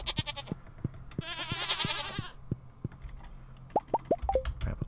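Goats bleat on a Stardew Valley farm, a wavering bleat standing out among quick plopping clicks of game interface sounds and item pickups, with chimes near the end and no voices.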